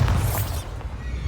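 Bombarda explosion spell cast in the video game Hogwarts Legacy, a loud booming blast at the start that tails off into a softer rumble, with a sharp burst near the end.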